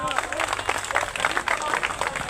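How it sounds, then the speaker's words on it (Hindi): A crowd at a Dalit political rally claps in a dense, uneven patter. The clapping is short and moderately loud against an outdoor background. "तालियां तो बजा दो भाई।"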